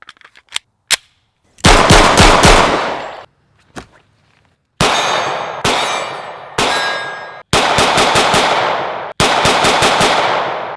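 A Sig P365 compact pistol fires at close range: a few sharp single shots, then several rapid strings of loud reports, each string followed by ringing echo, with brief pauses between bursts.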